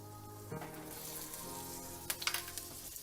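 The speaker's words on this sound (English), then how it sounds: "we're gonna first cook our garlic and our fresh ginger" Garlic and fresh ginger fry in vegetable oil, a soft, quiet sizzle with a low hum underneath, then a few light taps and crackles near the end; no voices.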